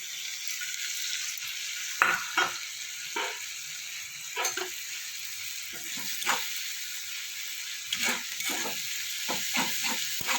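Crushed ginger, garlic and green chili sizzle steadily in a hot pan, with a high frying hiss broken by repeated scraping stirs and clatters; no one speaks.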